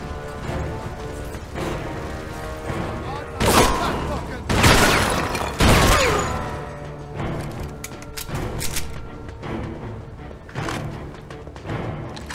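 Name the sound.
gunfire from the Mafia 2 video game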